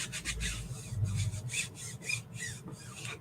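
A squeegee drags chalk paste across a silk screen, making a soft, raspy scraping in several short strokes, fairly quiet and close with no talking.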